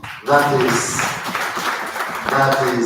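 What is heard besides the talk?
audience applause for a priest at a conference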